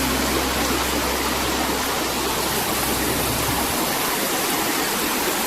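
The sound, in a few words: water flowing over Holm Head Weir on Rivelin river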